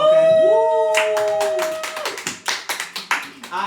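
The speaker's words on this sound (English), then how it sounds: "Cue the applause." Podcast hosts clap by hand in an uneven burst of close, sharp claps, with a sustained tone ahead of it.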